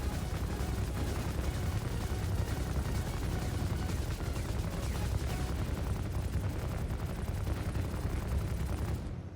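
Relentless rapid gunfire from a shooting game, fighting turrets with a dense unbroken stream of shots and impacts that stays loud throughout, ending with a brief drop.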